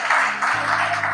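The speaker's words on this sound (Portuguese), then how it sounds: "Aplauda Jesus" A church congregation applauding during a sermon: a dense, loud wash of many hands clapping together, carried over a low sustained tone, with no voices heard.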